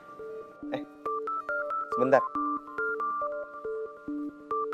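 An electronic phone ring tone plays a repeating pattern of steady beeping notes, interrupted briefly by a short spoken word.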